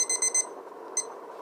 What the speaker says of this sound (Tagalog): nag-alarm na ulit